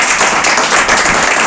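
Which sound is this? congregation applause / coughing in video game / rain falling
congregation applause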